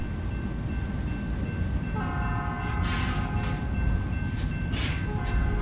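A train in American Truck Simulator sounds its horn in a series of sustained blasts over the steady low rumble of rail cars passing, with no speech.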